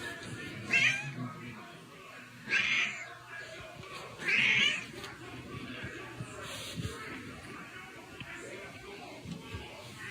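A cat meows in short bursts, three distinct calls spaced a couple of seconds apart over a faint, noisy indoor background, with occasional soft shuffling between them.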